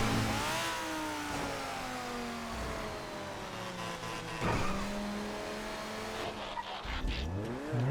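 Race cars in GTA V FiveM rev and roar, their engines sweeping up and down through gear changes, with tire squeals and skids breaking through the constant, loud engine noise.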